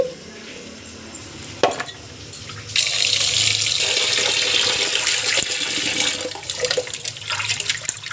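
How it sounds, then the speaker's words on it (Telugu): Running tap water splashes over fish pieces being washed in a kitchen, starting with a few handling knocks before a loud, steady gush with bursts of splashing. "ఇప్పుడు శుభ్రంగా కడిగేసుకుందాము"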